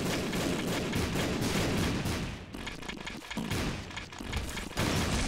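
Bombs exploding in The Binding of Isaac: Repentance, a dense barrage of loud, rapid booming blasts with brief gaps between bursts.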